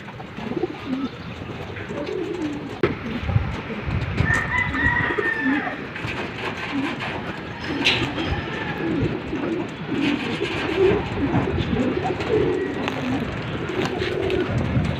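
Homing pigeons cooing close by as they enter the loft trap, repeated soft throaty coos over a busy outdoor background with scattered knocks and other birds.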